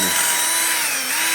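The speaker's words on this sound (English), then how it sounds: "once I've sanded it all, I'm basically running over it with my drill, and that's how you get the shiny silver finish" A power drill with a polishing attachment whines steadily at high speed against a sanded VW Polo IV 9N exhaust, a loud, close, continuous buzz with a slight dip in pitch partway.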